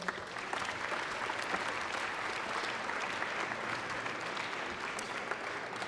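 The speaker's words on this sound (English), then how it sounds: "If we could give those guys a quick round of applause." A crowd applauds steadily, dense clapping filling the room at an even, sustained level from start to finish.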